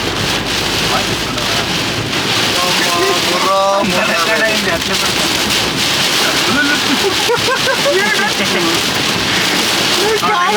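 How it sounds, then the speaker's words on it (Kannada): Heavy rain pounding a car while driving near Kadur, a dense steady wash of water noise with wind roar throughout, with a voice talking over it. "ಕಡೂರ್ ಹತ್ರ ಮಳೆ ನೋಡಿದ್ರೆ ರೋಡ್ ಕೂಡ ಕಾಣ್ತಾ ಇಲ್ಲ, ಅಷ್ಟೊಂದು ಮಳೆ ಬೀಳ್ತಾ ಇದೆ."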